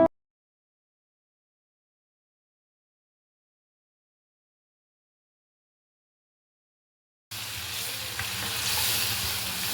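A tempering for tamarind pulihora crackles in hot oil. A long silence comes first, then a steady, close sizzle starts near the end and carries on with no talk.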